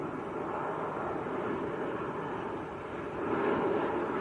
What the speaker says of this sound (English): Airbus A220 from Paris